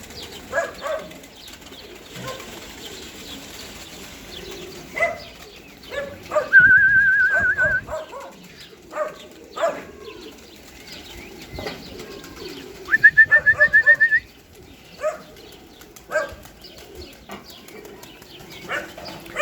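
Baku pigeons coo softly and repeatedly against a rustling background on a farm, with two bursts of loud wing flapping as birds take off.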